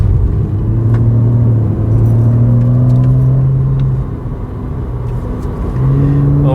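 Porsche 997.2 with PDK gearbox downshifting on a winding road, the engine note rising and falling in stepped revs with a steady rumble from inside the car, loud and continuous.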